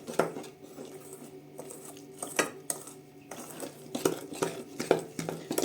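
A spoon stirs a milk mixture in a bowl to break up lumps, giving a run of close, uneven clinks and scrapes against the dish.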